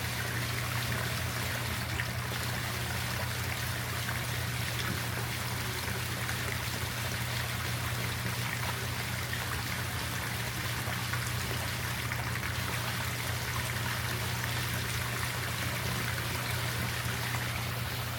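Water pumped from a big pond pours steadily into a smaller garden pond, a continuous close trickling and splashing wash with a low steady pump hum underneath, unbroken throughout.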